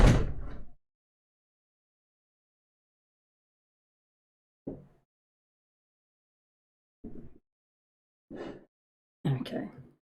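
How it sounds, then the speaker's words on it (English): A door closes in a quiet room with a single heavy thud, followed by four short, softer knocks and bumps spaced apart by silence. "So I'm going to close the door."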